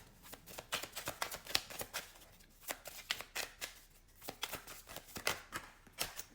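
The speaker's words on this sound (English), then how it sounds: "Cards fell on the floor." Oracle cards from a love oracle deck shuffled by hand, a quick series of close, crisp riffling and flapping bursts in an uneven rhythm, quiet and alone without speech.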